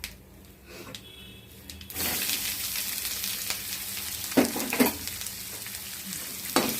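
Chopped onion, green chilli and curry leaves hit hot oil in a pan for poha upma, bursting into a loud steady sizzle after a quieter start, with occasional scrapes and stirs of a spoon.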